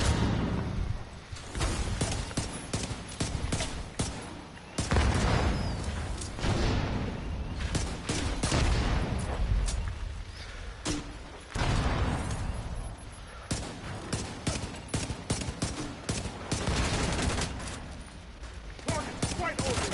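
Gunfire in The Division 2 played on PS5, heard as dense, continuous bursts of shots and impacts that run the whole time with a loud, busy mix, while a player talks over it.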